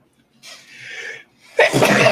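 A breathy inhale builds up, then a short pause, followed by a loud, explosive sneeze close to the listener.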